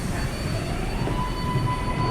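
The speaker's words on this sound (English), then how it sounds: "So this is the last stop on the 7 train." A New York City subway 7 train at the Flushing Main Street terminal in Queens, with steady rumbling rail noise, a thin high wheel squeal and an electrical whine filling the station continuously.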